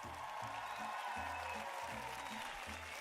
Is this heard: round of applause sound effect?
yes